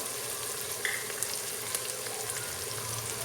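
Softened tomatoes fry with spices in a pot, giving a soft, even sizzle close by with a few faint clicks and taps scattered through.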